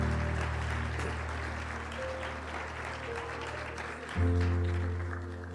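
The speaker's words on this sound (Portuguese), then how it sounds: "pastora Fernanda, uma salva de palmas" A congregation claps during a church family celebration service. The applause is steady and fairly faint, set against a sustained musical hum that swells near the end.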